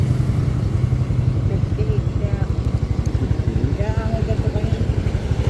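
A motorcycle engine runs close by in a hometown street setting, a steady rapid low pulsing throb that continues throughout while people talk over it.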